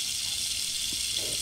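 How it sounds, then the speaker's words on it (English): Water running from a tap makes a steady, hissing broadband rush, close and continuous, with faint low rumbles underneath. "let me turn on the water"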